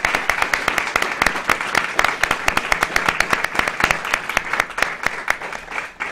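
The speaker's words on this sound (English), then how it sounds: "I hope the audience will help me give a big round of applause to our candidates here this evening." Audience applause for candidates at a 2015 candidate forum: many pairs of hands clapping in a fairly small room, with sharp individual claps standing out, steady throughout and fading slightly at the end, no speech.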